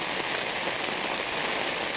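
Steady rain patters densely on a surface at Celina Lake in Hoosier National Forest, a continuous hiss with no pauses or voices.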